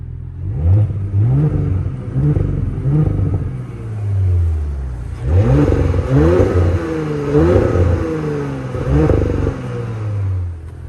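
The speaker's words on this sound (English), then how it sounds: "We'll give it a few revs." An Audi B9 S5 engine revs up several times in quick bursts, each rising and falling back to idle, loud and close with a throaty rumble.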